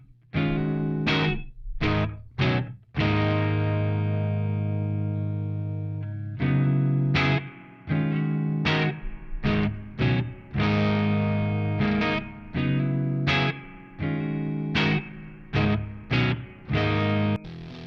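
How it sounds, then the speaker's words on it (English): An electric guitar played through a Way Huge Doomhammer muff-style fuzz pedal sounds thick and saturated, with sustained distorted chords and a rhythmic run of choppy, articulate stabs. "craziest muff style fuzz you've ever heard, but it's still kind of articulate"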